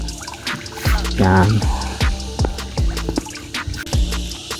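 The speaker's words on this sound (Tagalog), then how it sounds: "Buhos lang ng buhos doon sa net natin." Fish feed pours into a net set in a tilapia pond, giving a series of sharp pattering splashes at a loose, irregular rhythm, close by, with someone talking briefly over it.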